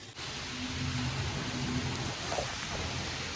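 Steady rain falls outdoors during a cement table-making project, a constant broad hiss with no breaks, with a low hum and faint murmur underneath.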